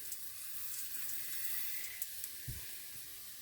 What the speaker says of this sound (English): Then I'm going to put my water in